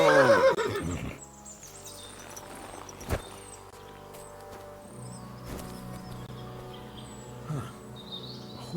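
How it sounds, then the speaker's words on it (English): A horse whinnies loudly and close in the woods in the game Kingdom Come Deliverance 2, then quiet forest ambience follows with faint bird calls and a few soft thumps and snorts. "A horse?"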